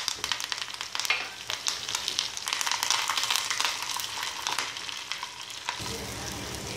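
Onions frying and browning in a pan for Hyderabadi chana dal katli, a loud continuous sizzle with occasional stirring scrapes, close up and without talk, easing slightly near the end.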